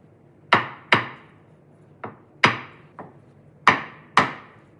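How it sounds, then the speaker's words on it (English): A hammer taps wooden pins into a wooden mitre shooting board in sharp, separate knocks, seven blows at an uneven pace, close and clear against a quiet background. "Some gentle persuasion with a hammer."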